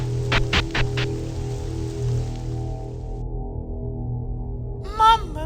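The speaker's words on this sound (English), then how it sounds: "I will get sick if I stay in the rain too long" Rain in a Mario horror video game falls as a steady hiss, with a few quick clicks early on and a short tonal game chime near the end.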